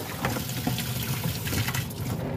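Cold water poured over boiled jackfruit seeds in a kitchen, a steady splashing rush of running water with small gurgles, close and continuous with no talk.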